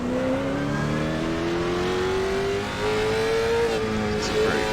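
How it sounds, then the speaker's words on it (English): A late model stock car from the Cars Super Late Model Tour style in iRacing roars loudly and steadily, engine pitch climbing through a gear, dipping briefly and rising again up close. "It's a very good sounding race car."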